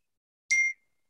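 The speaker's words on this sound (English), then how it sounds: "sorry about that beep" A single short electronic beep, clear and tonal, lasting about a quarter second in otherwise silent surroundings.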